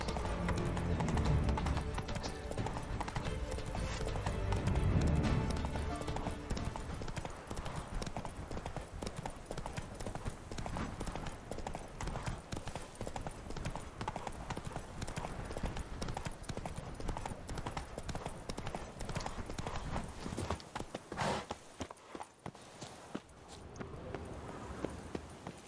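A horse gallops in The Witcher 3, its hooves clip-clopping in a steady, fast rhythm that carries through the whole stretch over game ambience and stays loud and continuous.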